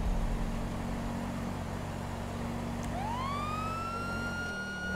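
Police car siren in GTA V starts up and rises into a loud, sustained wail over a low, steady engine rumble during a pursuit, with no talking.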